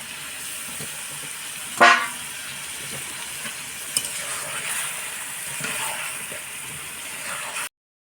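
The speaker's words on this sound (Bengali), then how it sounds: "এবার আমি মাছগুলো দিয়ে দিব, দিয়ে ভালোভাবে কষায় নেব।" Big pieces of fish fry in an oily spice paste in a pan, giving a steady, soft sizzling hiss that is broken by a sharp utensil scrape and a few light clinks before the sound cuts off.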